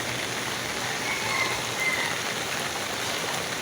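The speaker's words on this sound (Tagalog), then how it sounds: "Tapos umuulan pa." Steady rain falls in a constant, even hiss on the surfaces nearby, with no voices and no break in the downpour.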